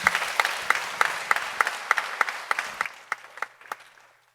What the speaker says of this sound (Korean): 우리 희수총님 박수를 한번 격려해 주시죠.